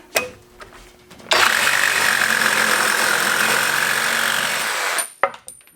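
Kobalt XTR reciprocating saw with an 18 teeth per inch blade cutting through pipe, a loud, steady, harsh buzzing grind lasting about four seconds, starting abruptly and stopping with a few clunks.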